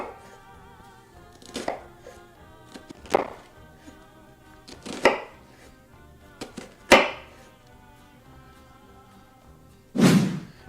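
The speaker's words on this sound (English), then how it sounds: "I'm going to take my knife and I'm going to cut just strips into the onion" A kitchen knife slices strips into an onion on a cutting board for a medium chop, giving about half a dozen separate close thuds at uneven intervals, with the final stroke landing loudest.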